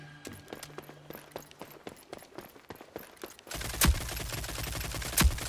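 Gunfire in the shooter game Rogue Company: a run of light, rapid shots and mechanical clicks gives way to a louder, denser stretch punctuated by two heavy blasts.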